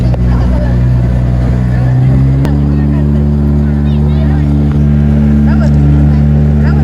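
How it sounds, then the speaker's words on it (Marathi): A motorboat carrying passengers to Sindhudurg fort, its engine droning loud and steady at close range, with people chatting over the motor throughout. "चालू झालेला आहे आपला प्रवास बोटीतला."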